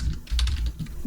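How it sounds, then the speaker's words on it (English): Quick bursts of keystrokes on a computer keyboard entering a baud rate, close and clear, a handful of clicky taps in uneven rhythm over about a second. "So all I got to do is type in the baud rate"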